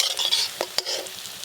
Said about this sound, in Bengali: দেখলে মনে হবে যেন কুমড়ো ফুলের বড়া ভাজা হচ্ছে